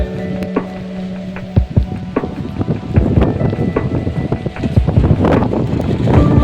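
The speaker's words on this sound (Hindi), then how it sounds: "इतना तेज हवा आ रहा है।" Strong wind roars and gusts across the microphone during a rainstorm, buffeting it constantly, with scattered knocks and rattles beneath the rushing noise.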